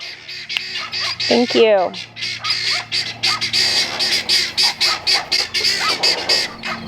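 Geese or similar fowl squawk and honk as a dog chases them on a farm, with repeated harsh calls in a steady rhythm, fairly close and loud, under brief human talk.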